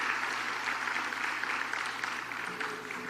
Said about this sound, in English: Give Prime Minister Holness a round of applause.